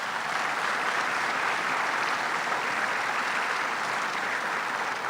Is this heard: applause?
yes